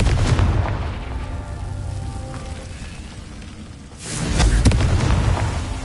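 Confringo spell explosions in the video game Hogwarts Legacy: a heavy booming blast that rumbles and fades, then a second loud explosion about four seconds later.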